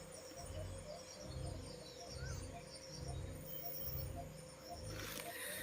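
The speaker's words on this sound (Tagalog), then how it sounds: "boses ng ibon." Birds calling outdoors at night near a broken-down hut in overgrown brush, a steady chorus of repeated calls over a low rhythmic pulsing drone, with insects and a brief burst of hiss near the end.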